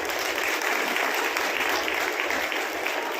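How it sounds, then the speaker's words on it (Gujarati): A live audience claps steadily in a hall, cheering on a mother at a family-themed talk. The dense applause holds at an even level for a few seconds with no break and no voice over it. "માને એકવાર જોરદાર તાળીથી બતાવો"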